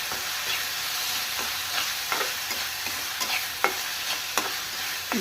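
Tomato mixture with turmeric and salt stirred and frying in a pan, a continuous bright sizzle broken by several sharp scrapes of a spoon against the pan, close and fairly loud, with no talking.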